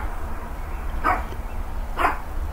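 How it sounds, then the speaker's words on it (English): Two short barks from a dog, about a second apart, fairly distant against a steady low background hum. "I'm sorry for the barking."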